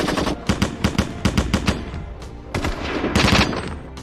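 Soldiers open fire on zombies in a film scene, sharp loud gunshots in quick irregular bursts, some rapid like automatic fire, packed closely together over a few seconds.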